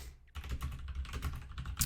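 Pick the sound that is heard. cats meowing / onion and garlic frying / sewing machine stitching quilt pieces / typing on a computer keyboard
typing on a computer keyboard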